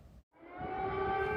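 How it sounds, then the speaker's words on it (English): Air raid sirens wail over Kyiv, the Ukrainian capital, in wartime: a loud sustained siren tone rises after a brief break and holds steady, with no voices. "As airstrike sirens sounded over the Ukrainian capital"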